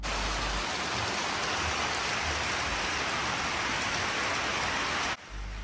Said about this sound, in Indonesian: Lagi hujan kabut turun.